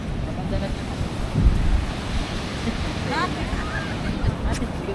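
Waves washing onto a public beach in San Juan, La Union, a steady surf wash mixed with wind buffeting the microphone, with faint voices and a few bird-like chirps in the background.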